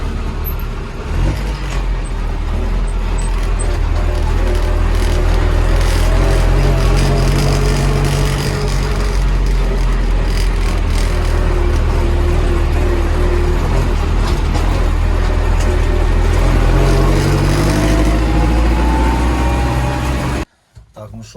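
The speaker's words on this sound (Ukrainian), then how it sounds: "Олой Камаз уже газує." A KamAZ truck's diesel engine revs during a grain harvest, a loud, continuous rumbling drone with rising and falling pitch that holds steady nearly throughout before cutting off abruptly at the end.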